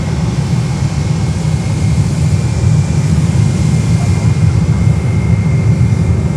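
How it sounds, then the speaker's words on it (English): A JetBlue jet airliner rolls along the outer taxiway at Fort Lauderdale airport, giving off a loud, steady engine rumble and roar that holds constant throughout, with no voices over it. "And there's JetBlue on the outer taxiway."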